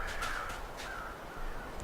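Crows in The Long Dark caw in a few hoarse, repeated calls at moderate distance over a steady wind-like background.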